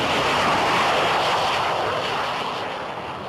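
A MiG-29 Fulcrum jet fighter at an air show, a loud broadband roar of jet engine noise sustained close by and slowly fading toward the end, with no talk.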